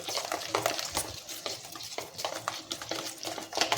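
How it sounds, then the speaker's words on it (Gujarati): Spices being stirred into gram flour for fulwadi, a soft, steady scraping and mixing with irregular taps of a spoon against the bowl, close and continuous. "આ રીતે બધા જ મસાલાને મિક્સ કરી લેવાનો છે"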